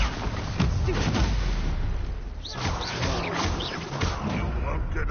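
Spell explosions in Hogwarts Legacy, fire and blasting spells going off in a dense, continuous barrage of booming, crackling bursts that stay loud throughout, with shouted voices mixed in.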